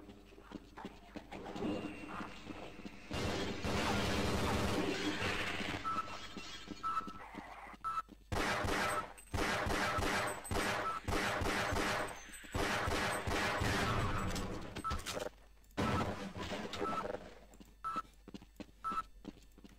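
Rapid automatic machine-gun bursts in the Half-Life remake Black Mesa, several long volleys of fire separated by short pauses, loud and close, with game sounds in between.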